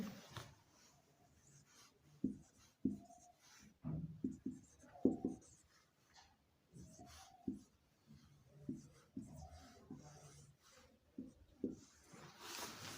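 Pen scratching across paper while a class 12 matrix exercise is written out by hand, in short irregular strokes and taps that start and stop with pauses, close and fairly quiet.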